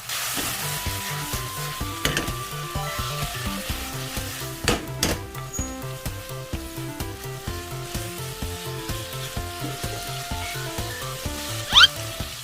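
Tuna and tofu noodles fry in a pan with a steady, close sizzle, with occasional stirring scrapes and a brief sharp clink near the end.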